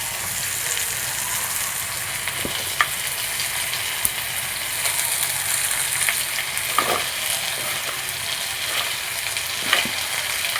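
Cinnamon, cloves and other whole spices frying in a pan, a steady close sizzle with occasional soft clicks and crackles from stirring, no voices.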